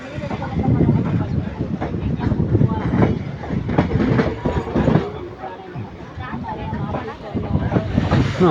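A passenger train bound for Mangalore rumbles and clatters steadily into Coimbatore Junction station, with metallic squeals and clanks over a continuous low roar, and voices murmuring nearby.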